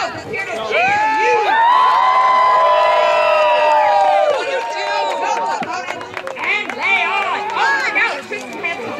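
Crowd at a medieval festival combat bout shouting and cheering throughout, loud and close, with an announcer's voice and excited whoops rising over the din.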